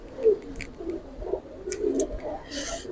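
A red jira-neck giribaz flying pigeon gives soft, low repeated coos at close range, with a few brief sharper sounds in the background.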